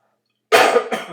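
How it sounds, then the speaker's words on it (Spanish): A single close cough bursts out after a short silence, followed by a second smaller cough. "Perdón que ya me agarró tos."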